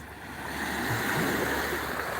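Gentle water waves lap and wash along a beach in a steady, continuous rush, close and moderately loud with no talking.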